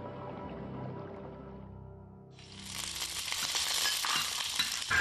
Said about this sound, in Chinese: 大块的腊猪蹄下锅，浓烈的肉香直冲鼻腔